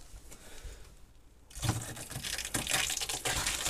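Water runs into an RV drain catch while the water system is being winterized, starting as a steady, moderately loud gushing rush after a quieter opening second.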